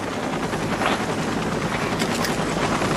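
Rescue helicopter hovering during a swiftwater rescue near a victim's car, a loud steady rotor roar with dense broadband chop filling the whole stretch, no voices.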